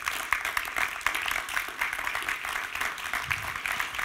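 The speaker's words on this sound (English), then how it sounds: "Please give them a warm round of applause." An audience at the GLOBSEC Forum conference claps for speakers taking the stage, a busy, fairly close patter of many hands that holds steady with small surges throughout.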